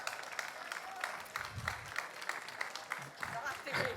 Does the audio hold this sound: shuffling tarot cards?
no